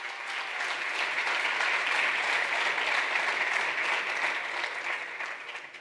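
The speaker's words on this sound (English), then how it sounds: "So give it my big massive round of applause to you guys" Sustained audience applause at a Be.club soft-launch event in Greece, a dense, steady wash of clapping from many hands that stays loud throughout, then fades slightly at the very end.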